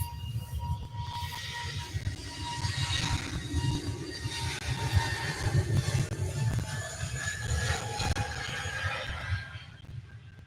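An SAS Connect plane takes off at Manchester Airport, heard as a broad, rumbling jet roar with a low drone and shifting whine, steady and moderately distant throughout.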